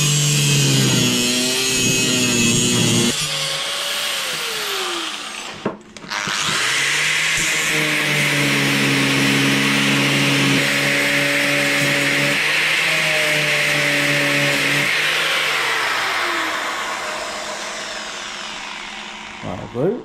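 An angle grinder trims a fabricated metal part in a shed, running loud and continuous with a whining tone that shifts in pitch, briefly cutting out around the middle before resuming and winding down near the end.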